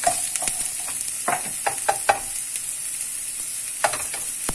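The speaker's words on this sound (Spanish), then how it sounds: "Y lo sofreímos hasta que quede translúcida la cebolla. Hay que mezclar para que no se queme." Garlic and onion sauté in a pan, giving a steady, fairly quiet sizzle punctuated by scattered clicks and scrapes as a utensil stirs them, with no speech.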